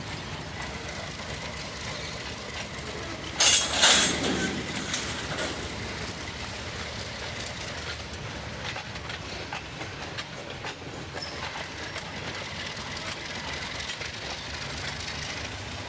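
An S scale model Alco diesel locomotive runs steadily with a constant mechanical hum and faint wheel clicks, a brief louder rattle near the start, no voices.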